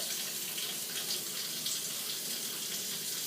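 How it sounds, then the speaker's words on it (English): Water pours steadily from a jar during butter making, a continuous soft splashing trickle heard alone with no voices. "So we're going to carefully pour that water back out without losing our butter."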